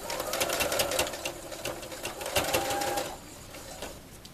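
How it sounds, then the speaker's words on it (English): A sewing machine stitches binding onto a quilt in a fast, steady mechanical chatter, then drops to a quieter, slower run near the end. "when you start sewing, you'll start right at the top edge of your project"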